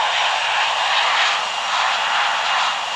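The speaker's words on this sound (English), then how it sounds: "Heavy is taking off runway 25 left, departing east" A heavy airliner in the flight simulator game Infinite Flight takes off, its jet engines roaring in a loud, steady, broad rush that holds throughout, with no talking.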